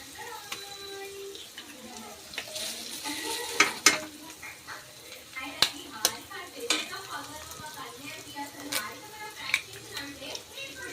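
Three eggs sizzle in a pan for egg rice while a utensil stirs and scrapes through them, with scattered metallic clinks over a continuous frying hiss.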